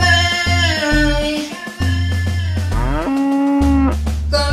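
A cow moos repeatedly in long, loud, tonal calls with short breaks between them, heard close and clear as part of a song parody.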